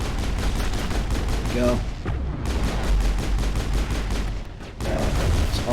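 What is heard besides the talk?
pistol gunfire in Mass Effect video game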